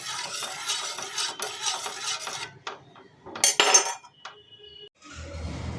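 Liquid plant-food solution being stirred and mixed by hand in a container, with clinking, scraping strokes in uneven bursts, close and moderately loud, then a brief pause before a softer rustling at the end.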